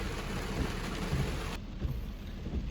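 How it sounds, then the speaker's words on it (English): Steady pouring rain drums on a car roof and windows, heard from inside the parked car at an early-morning store lot; a dense, even wash of noise with no talking. "Of course I am, and it's pouring rain."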